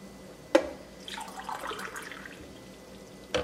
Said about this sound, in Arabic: ونزيد نبدا نعبر الماء تاعي